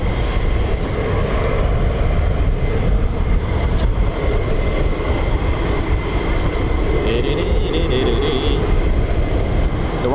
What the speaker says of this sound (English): There are more F-35s taxiing across the runway.